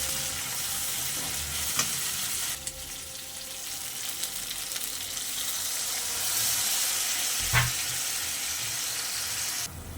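Water poured into a pan of fried spice paste for a prawn-stuffed pointed gourd dorma sets off a steady, close, fizzing sizzle, with faint clinks and stirring scrapes over it and no talk.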